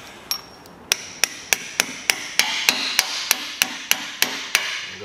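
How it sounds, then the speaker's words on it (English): Sharp metallic hammer blows drive a car lift anchor bolt into a concrete floor, about a dozen evenly spaced strikes close up after two tentative taps, with no talking. "Go ahead and hammer that in."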